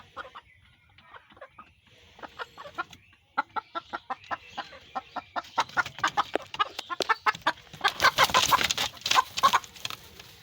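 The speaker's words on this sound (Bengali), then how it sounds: "এই দেখুন ডিম পড়ানো মুরগি" Laying hens cluck nearby in a rapid series of clucks that starts sparse, then builds louder and denser into an excited cackle.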